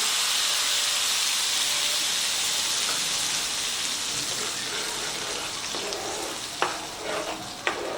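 Tomato paste hits hot oil with lightly fried garlic in a pan, giving a loud, steady frying hiss with steam, while a few sharp stirring knocks come near the end.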